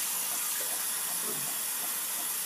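Hot water running steadily from a bathroom tap before a shave, a constant close hiss and splash with no breaks for the whole moment.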